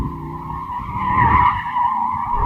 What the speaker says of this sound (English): I can just feel the tyres just chewing away at the tarmac